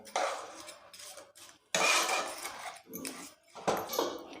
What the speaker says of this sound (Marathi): खीस आपल्याला असा परतून घ्यायचा आहे आणि शिजवून घ्यायचा आहे